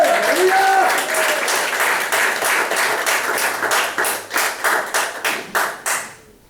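A church congregation breaks into applause, starting with a voice over dense clapping that thins into a few rhythmic group claps before stopping, heard up close.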